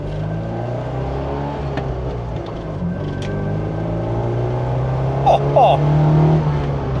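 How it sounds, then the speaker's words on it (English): Classic Alfa Romeo Alfetta with a 4-cylinder engine driving, a steady in-cabin engine drone that rises as it revs through a gear change, with a brief exclamation from a voice. "the Italians managed to make even a humble 4-cylinder sound so exotic"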